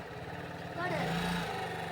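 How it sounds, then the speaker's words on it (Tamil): A small engine on a mini race car runs steadily with a buzzing drone and a low harmonic hum, growing a bit louder partway through; someone talks over it. "நம்ம ஹேண்டில் ஒரு டைம் ஃபிட் பண்ணாமல் இன்ஜின் எப்படி ரன் ஆகுதுன்னு பார்க்கலாம்."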